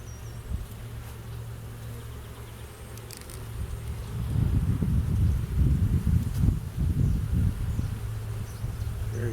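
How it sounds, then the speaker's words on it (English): Gentle honeybees hum steadily at a hive during a spring inspection, a continuous low buzz with wing noise swelling louder midway, accompanied by rustling from handling the boxes. "gentle bees"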